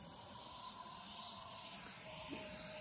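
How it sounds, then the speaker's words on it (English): Aerosol can of Deep Woods Off insect repellent sprayed onto an aged, hazy car headlight, a steady close hiss running unbroken for nearly three seconds. "Now this, Deep Woods Off, I'm going to spray this"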